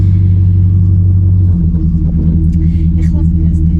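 Car engine held at steady throttle during drift practice, a loud continuous low rumble that drops in pitch partway, with brief voices over it.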